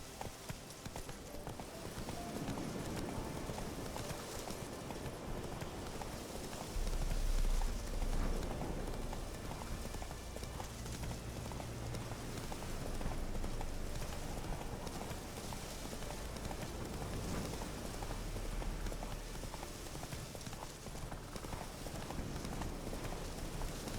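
Roach, a horse in The Witcher 3, gallops with steady, rhythmic clip-clop hoofbeats that stay fairly soft and continuous, with a soft rain-like hiss underneath.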